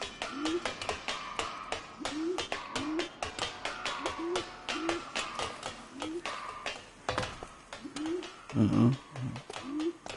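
Pigeons in a rooftop bird cage coop in the 1940s Los Angeles crime game L.A. Noire coo in a steady repeating rhythm of soft rising calls, mixed with clicks and scuffling thumps, with a louder burst of cooing near the end.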